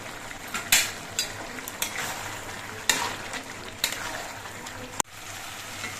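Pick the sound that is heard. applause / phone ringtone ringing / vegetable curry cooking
vegetable curry cooking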